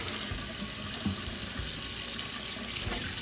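Tap water runs steadily into a kitchen sink while a lamb shank is rinsed with vinegar, a close, continuous splashing hiss broken by a few soft knocks and handling sounds.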